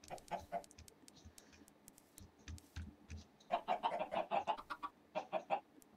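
Minecraft chickens cluck in short, irregular bursts, some sharper calls clustering together, close and moderately loud with a soft rumble underneath.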